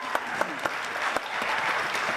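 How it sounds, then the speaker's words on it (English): Applause from a modest crowd at a music and poetry event, scattered sharp claps building into a continuous patter, fairly close. "Let's hear a round of applause for WXNZ"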